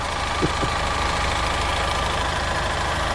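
An engine idling with a steady, even low drone and broadband hum, constant in level throughout with no voices.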